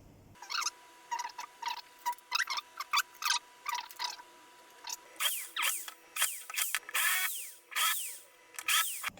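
Short bursts of a power drill, starting and stopping repeatedly with a high whine, growing longer and louder toward the end; close by, no talking.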